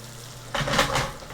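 Butter for shrimp scampi hits a hot pan and bursts into a short, close sizzle after a quiet moment, a brief crackling hiss with no voices.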